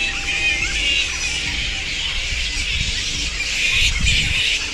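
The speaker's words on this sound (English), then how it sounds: "we had a deafening noise coming from the outside. There are millions of bats here, up on the tree." A colony of countless bats roosting in a tree outside a retreat near Cania Gorge gives off a dense, continuous chorus of high squeals and chatter, loud and unbroken throughout.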